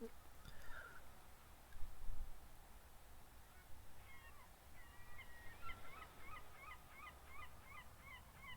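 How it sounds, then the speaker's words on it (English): Distant seagulls call in a repeated series of faint cries over a low rumble of passing road traffic, all quiet and far off. "giving way to the sounds of distant seagulls and the hum of vehicles on the road behind us"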